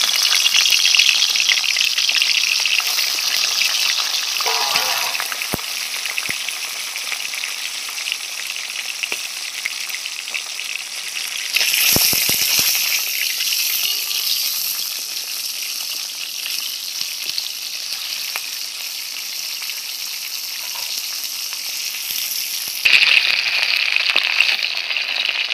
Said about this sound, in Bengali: হলুদ নুন মাখানো রুই মাছের মাথা ভেজে নিচ্ছি।